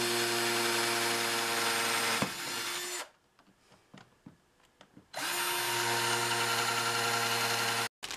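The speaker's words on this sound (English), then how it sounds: "Okay, the holes are drilled." A power drill whirs loudly at high speed in two long bursts while drilling mounting holes for a guitar rack, separated by a few seconds of quiet with faint clicks.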